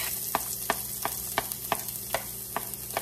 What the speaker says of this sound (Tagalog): lagay na natin ang sibuyas